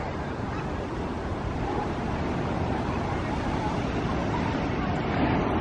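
Pacific Ocean waves roll onto Laguna Beach in Southern California in a continuous broad wash, steady and fairly close, with no distinct voices standing out.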